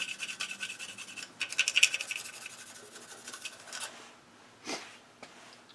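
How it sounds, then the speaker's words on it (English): Light scratching and rubbing of a pencil marking the wooden bottom of a segmented bowl, a few strokes close up, then fading to quiet. "So I'm going to take a pencil and mark the entire bottom."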